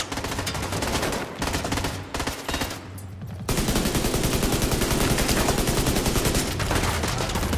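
Sustained automatic gunfire in The Division 2 from an enemy firing from behind a shield, with dense rapid shots, a brief choppy stretch and then a continuous heavy barrage, loud and close.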